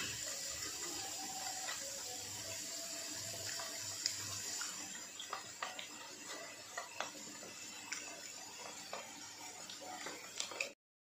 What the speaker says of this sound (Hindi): इसको हम पानी डाल के इसकी एक सैलरी तैयार कर लेंगे